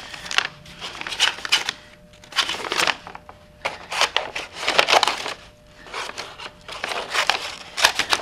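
Scissors cutting through a plastic trash bag for a craft project, a series of crisp snipping and crinkling bursts in irregular rhythm with short pauses, close and fairly loud.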